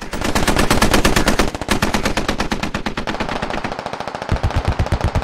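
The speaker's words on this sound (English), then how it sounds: "looks like some of these guys are taking fire from their north" Automatic gunfire in the video game SquadOps rattles in long, rapid bursts of loud, closely spaced shots that continue almost without pause, then turn into slower, heavier reports near the end.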